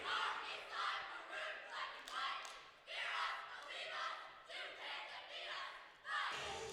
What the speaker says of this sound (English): I like that cheer, very nicely done.